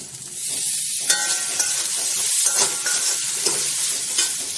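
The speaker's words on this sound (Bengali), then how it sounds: "ভালো করে কষে নেব। আমি এর উপরে দিয়ে দেবো টমেটো কুচি," Chicken curry masala with chopped tomato sautés in a pan, a steady sizzle running throughout while a utensil scrapes and stirs in several distinct strokes, close and fairly loud with no voices.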